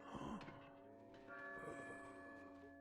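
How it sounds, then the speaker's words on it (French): A bell tolls in the Resident Evil 4 video game, its sustained ringing tones layered over game music and ambience, with a second strike partway through. "la cloche qui sonne, c'est l'heure du thé"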